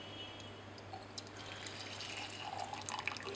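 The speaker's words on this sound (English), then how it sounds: "After a while we poured out the mixture from the receiving flask and allowed it to settle." A liquid mixture in a lab is poured out of a receiving flask, producing a steady trickling splash that grows busier toward the end over a constant low hum.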